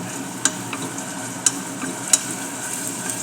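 Garlic and onion sautéing in a pan, a steady low sizzle with a few sharp spatula scrapes or taps standing out, close and moderately loud with no talking.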